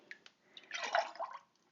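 Ceramic glaze pours from a measuring cup into a cup, a soft short liquid splash and trickle heard close up and fairly quiet after a few faint taps.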